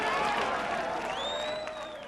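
West Berliners applauding at the border as people cross from the East, a dense wash of clapping from a crowd, steady and fairly loud throughout, with a few whistles rising above it.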